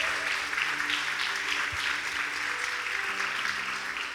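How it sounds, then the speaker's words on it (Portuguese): A church congregation claps in sustained, fairly dense applause during a sermon and book launch, steady and even with a faint low musical hum underneath. "Aplauda ao Senhor Jesus pela vida deles"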